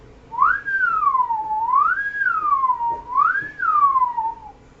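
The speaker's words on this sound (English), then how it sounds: "to change the pitch of my whistle, I just slid my tongue" A person whistles through the mouth, sliding the tongue to change the pitch. A clear, fairly loud tone glides smoothly up and down in repeated rising and falling sweeps for about five seconds, with no talking.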